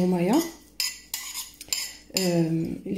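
Utensil scraping and clinking against a bowl while tajine ingredients such as chopped coriander, parsley, lemon and garlic are mixed, a few brisk close strokes with metallic clinks.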